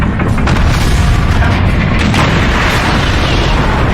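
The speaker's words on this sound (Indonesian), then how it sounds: "seorang Panther bernama Jackson berhasil menghancurkan satu tank Tiger" A Tiger tank being destroyed in a World War II war film produces a loud, sustained explosion: a deep rumbling boom that fills the whole four seconds without letting up.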